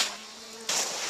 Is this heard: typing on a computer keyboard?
no